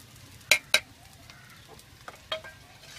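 Masala and boiled vegetables for noodles being stirred in a pan, giving a few sharp scraping clacks of the spoon over a soft low sizzle, with no talking.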